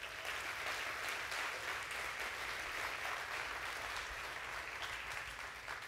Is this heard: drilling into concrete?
no